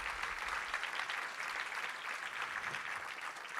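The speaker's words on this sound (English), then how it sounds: "And one more round of applause for our education finalists." An awards ceremony audience claps in a sustained round of applause for the education category finalists, a dense even patter of many hands with no voices over it.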